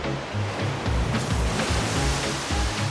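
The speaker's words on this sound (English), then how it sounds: "Waves break when they reach a shallow shore," Ocean waves break on a rocky shallow shore in a continuous roaring wash of surf, with repeated low surges rising and falling at close range and no voices.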